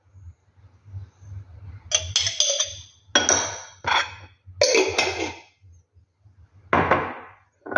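Chicken being mixed with oil, lemon and mustard in a bowl, heard as several separate bursts of wet scraping and clinking over a low hum, with quiet pauses between them.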